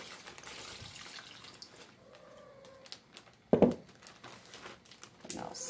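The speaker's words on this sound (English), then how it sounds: "I'm just gonna pour half of this bowl in here." Beef jerky marinade poured from a bowl into a bag, a faint trickle and splash with a short sharp burst of liquid and plastic crinkle in a quiet kitchen.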